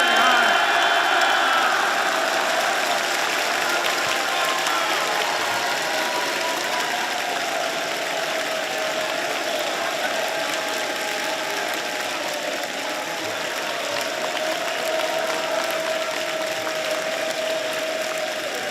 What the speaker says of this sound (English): They were cheering so loud.